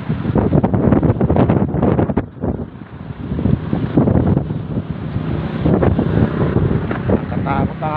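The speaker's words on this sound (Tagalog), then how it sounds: "Grabe ang hangin." Strong gusty Typhoon Crising wind buffets the microphone outdoors by a roadside with vehicles behind, a loud continuous roar that dips briefly, with someone talking over it as his bicycle is blown aside.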